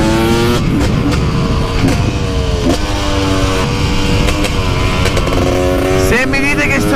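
A motorcycle on warmed tyres revs and accelerates, its engine note climbing in steady harmonic sweeps, close and loud for the whole stretch, with speech mixed in over it.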